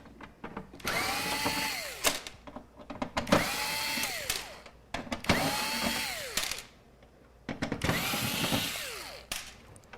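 A power screwdriver or drill backs out the screws holding a Dell XPS desktop motherboard, four bursts of whirring with rising and falling pitch, each stopping sharply, separated by brief pauses and small clicks.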